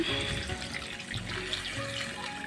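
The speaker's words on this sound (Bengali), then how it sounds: "জল দিয়ে দিলাম" Water pours into a pot of lentil curry for mosur dal bora, a steady close running splash that continues without a break, with no voices.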